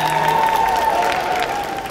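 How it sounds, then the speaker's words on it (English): An audience bursts into applause after a motivational talk, a brief, fairly loud spell of clapping mixed with crowd noise and a faint tonal hum underneath. "Give yourselves a round of applause."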